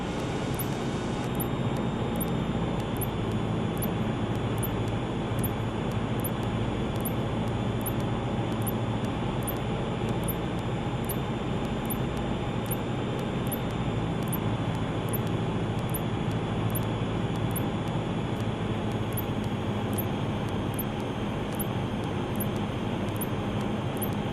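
A light training airplane's engine drones steadily and loudly through the whole stretch, a constant close-up cabin roar with a faint regular ticking high above it and no pauses.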